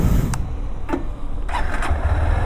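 A Honda Hornet 2.0 motorcycle cranks and catches in short bursts of starter whir, then settles into a low, smooth idle close by.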